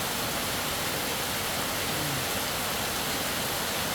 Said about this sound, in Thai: พราะฝนตกขนาดเนี้ย เปียกนะครับ